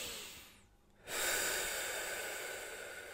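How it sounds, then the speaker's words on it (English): A single deep breath, drawn in close to the mic after a short near-silent pause, then a long airy rush that holds steady to the end, with no talking. "Just drop it all, okay? And just have a deep breath."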